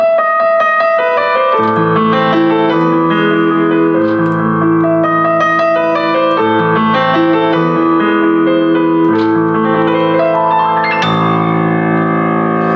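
Rich Yamaha CFX concert grand piano sound from a Yamaha CSP-275 digital piano: chords ring out continuously, layered harmonies sustaining and shifting with a full, resonant tone and no voices.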